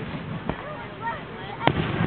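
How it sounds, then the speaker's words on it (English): Fireworks thud and crackle at a lakeside display in Lexington over Beech Lake, two sharper bursts standing out against a steady crowd murmur while people chat nearby. "How do they make the fireworks just like a sparkle?"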